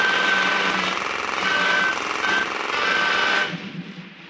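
A riveting hammer in a wartime factory, staged as a radio drama effect, gives a loud continuous rapid mechanical rattle with a faint whistle-like tone running through it, cutting off and fading just before the end.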